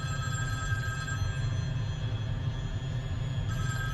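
A telephone rings steadily at close range, its bright tone repeating without pause over a low hum as an incoming call keeps coming through.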